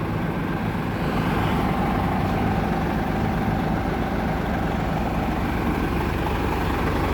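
A genuine tractor-trailer truck with a dual exhaust idles steadily, its deep, rumbling engine drone loud and close throughout with no voices over it.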